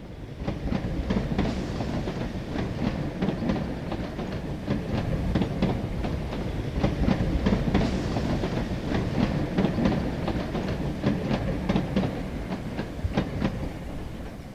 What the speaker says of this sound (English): the train now arrives at Stoke Crossing, slowing to a crawl as it approaches the Grain Road